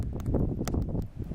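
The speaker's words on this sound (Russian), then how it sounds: "Ветер, зараза, не стихает третий день." Wind gusts steadily outdoors beside a campfire, a low buffeting rumble against the microphone that stays loud and continuous through a short stretch.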